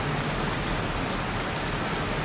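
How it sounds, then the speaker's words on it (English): Steady heavy rain pours down in the Heavy Rain video game, a dense unbroken wash of downpour with no other sounds, close and constant throughout. "Jeez, won't this rain ever let up?"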